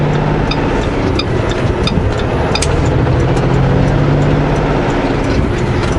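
A car climbs the Highway 3 mountain pass at Kootenay Pass with a loud, steady engine roar and road noise filling the whole stretch. Brief higher whines and clicks sit over the drone, and nobody speaks.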